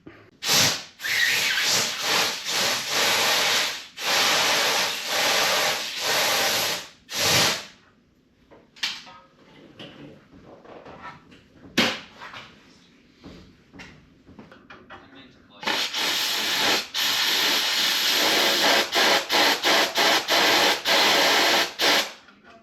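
Compressed air blasts through a fuel line on a 1978 Ford, loud hissing bursts opening and closing the stretch with quieter handling noise and brief puffs between.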